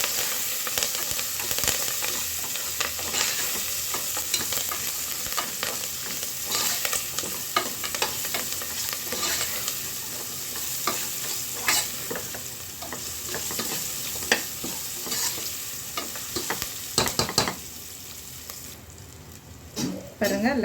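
Onions for sambar sizzle and fry steadily in a pan, with a spatula stirring and scraping repeatedly over the continuous hiss of hot oil.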